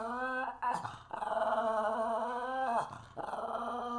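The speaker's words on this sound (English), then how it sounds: "So sorry if he's grumbling and barking throughout this." Playful dog growling in long, rumbling, tonal stretches with whiny yips, broken by short pauses, close and fairly loud with no talk over it.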